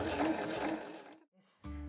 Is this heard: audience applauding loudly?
no